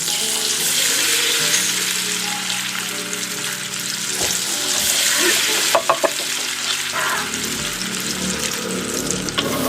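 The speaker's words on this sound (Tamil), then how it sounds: "இப்போ நாங்கள் ரெடி பண்ணி வச்சுருக்கிற இந்த பானை போட்டு பொரிச்செடுத்தா சுவையான பான் ரோல் தயாராகிடும்" Bread rolls deep frying in hot oil, a steady dense sizzle and bubbling that runs the whole time with a few sharp clinks and stirring knocks near the middle, close and fairly loud with no talk.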